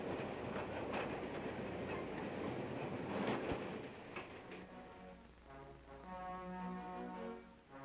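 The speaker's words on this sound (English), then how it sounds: "The train pulled into the station on time." A mail train pulls into a station, its wheels clacking over the rails in a steady rhythm that slows and thins out as it arrives, heard faintly from a distance.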